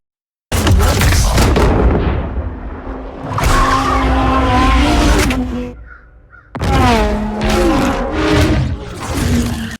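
A loud car engine roars and screeches in bursts, with a sharp gunshot-like crack trailing off in delayed, reverberant echoes and crows cawing in the quieter gap between.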